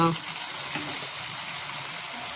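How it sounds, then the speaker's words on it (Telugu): Water from a glass poured into a pan of cooked tomato and coriander for a breakfast dish, heard as a steady splashing gush that runs close and fairly loud for the whole stretch. "1 గ్లాస్ వాటర్ యాడ్ చేసుకోవాలి."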